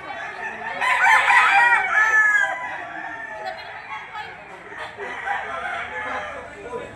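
A rooster crows loudly once in the first seconds at a gamefowl market in Lipa City, Batangas, followed by softer clucking from other fowl and faint background chatter.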